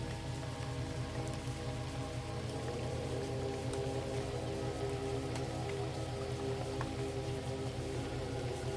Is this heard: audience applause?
no